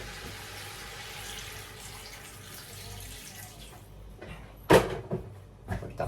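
Water pours from a tap into a pot for Filipino chicken soup tinola in a home kitchen, a quiet steady stream early on, then sharper splashes and clatter near the end.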